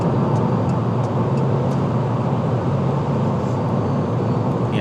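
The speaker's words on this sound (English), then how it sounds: "It has some road noise, but not bad overall." Steady broadband road and tire roar fills the cabin of a 2024 Fiat 500e electric car cruising at high speed, a constant close rumble with no engine note and faint wind hiss above.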